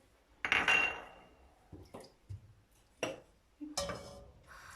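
A utensil scrapes and clinks against a metal pot in a few separate strokes while melting butter for broccoli soup, close up, with short pauses between them.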